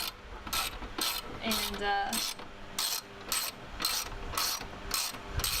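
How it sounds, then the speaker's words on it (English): A hand ratchet clicks in rapid repeated bursts while tightening bolts during work on a car's body panels and ECU, close and crisp, with a faint voice at one point. "So basically I'm just gonna tighten these 4 down"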